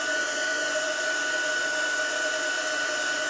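Heat gun on its lowest setting drying a paper flower made from a coffee filter and watercolor, a steady close airy whine and rush of hot air with no break.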